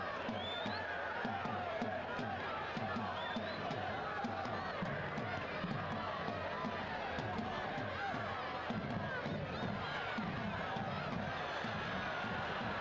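Stadium crowd at a professional soccer match between Richmond Kickers and Union Omaha, a continuous roar of voices and chatter at a constant level, with a commentator talking over it.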